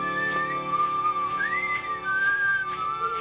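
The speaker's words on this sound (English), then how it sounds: "whistled hello to the birds in the sky" The Grinch whistles a cheerful, wandering melody to the birds, a clear sustained tune with rising and falling notes and no talking over it.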